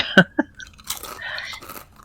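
Someone bites into a fortune cookie and chews it right at the mouth, with a couple of sharp crunches followed by softer, irregular chewing.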